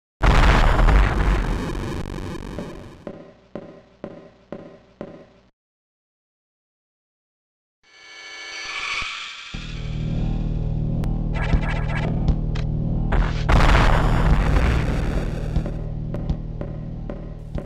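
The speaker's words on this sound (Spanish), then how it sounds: "La cámara te deja de seguir y ves una explosión." In a Metroid video game, a loud booming explosion opens with a deep rumble and then rhythmic thuds die off into silence. Synthetic, echoing game sounds and a sustained droning rumble follow.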